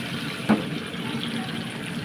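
A small amount of water is poured into a cooking pan to make broth for danggit dried fish, giving a steady, soft splashing flow after a brief opening splash.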